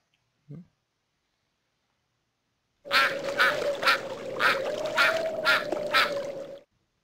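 In a children's atlas video game, a duck gives a rapid run of loud, close quacks lasting several seconds, after a brief faint sound and a stretch of silence.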